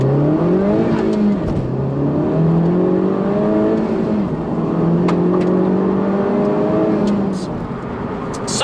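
A Honda Civic Type R hot hatch accelerates hard, its engine note climbing steadily through the gears with loud rising harmonics and faint background noise throughout.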